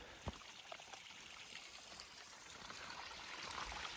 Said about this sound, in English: You come across little streams like this, little trickles coming out of the mountain.